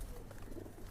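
A running pair of Pakistani Prince Kamagar pigeons coo in a low, soft murmur, very faint and close, over a quiet background hum.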